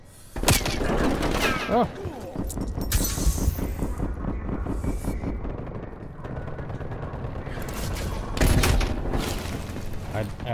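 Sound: gunfire in Black Ops Cold War video game

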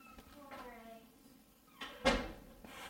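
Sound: door being shut

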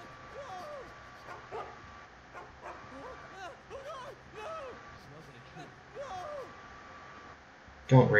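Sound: dog barking and whimpering in video game Mark of the Ninja

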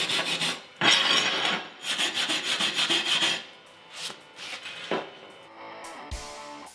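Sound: wire brush scrubbing a weld to clean slag

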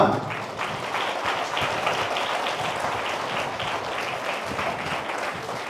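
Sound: audience clapping at school annual day

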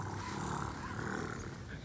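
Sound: children imitating a tiger roar

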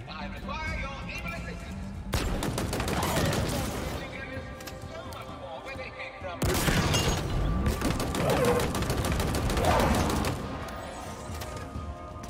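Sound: gunfire from the big gun in the video game Halo Infinite

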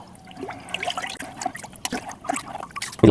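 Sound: stirring jaggery into liquid by hand

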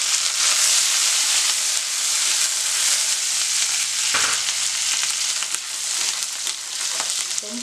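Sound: curry leaves frying in oil

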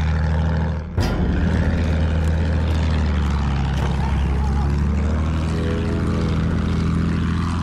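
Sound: enemy bomber aircraft in Battlefield 1 video game

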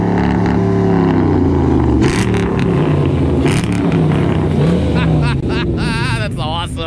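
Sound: muscle car engine revving on the highway

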